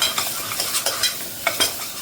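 Vegetables for pav bhaji sautéed with homemade chilli powder, turmeric and coriander powder, a steady sizzle punctuated by repeated scraping stirs of a spatula against the pan, close and without voices.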